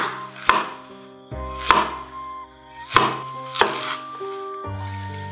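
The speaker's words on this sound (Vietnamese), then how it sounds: "Mình xắt khoai ra thành những cái miếng vừa vừa để mình nấu cho nó mau chín nha." Knife chopping potatoes into medium pieces on a board: four or five loud, sharp chops spaced about a second apart, close up and alone, with soft ringing between strikes.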